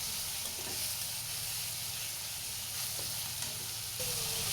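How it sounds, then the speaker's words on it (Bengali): Spice paste frying in plenty of hot oil in a wok, a steady dense sizzle with occasional stirring scrapes, close and continuous with no talk. "মশলাটাকে 2 মিনিটের মতো ভেজে নেব।"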